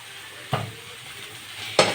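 Crushed garlic with cardamom goes into softened onions in a pan and is stirred, with two short scraping strokes against a low, steady sizzle.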